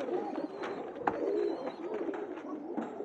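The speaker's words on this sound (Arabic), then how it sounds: "ده يا جماعة الحمام العبسي" Absi, also called Halabi, pigeons coo softly in close range, with repeated low throaty cooing phrases and a few brief flutters or clicks among them.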